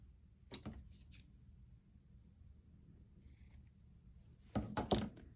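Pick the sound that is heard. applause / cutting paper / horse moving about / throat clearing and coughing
cutting paper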